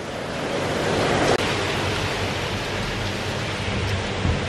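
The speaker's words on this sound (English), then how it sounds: "it's absolutely pouring down again" Heavy rain pours steadily at a stormy beach in Phuket, a loud, unbroken hiss blended with the wash of surf and wind, with a brief sharp knock partway through.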